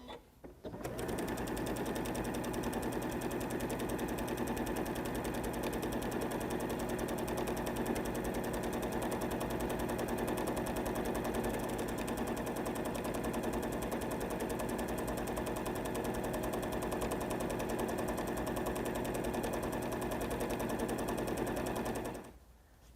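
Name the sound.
sewing machine stitching placemat seams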